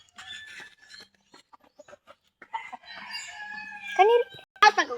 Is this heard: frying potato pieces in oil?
no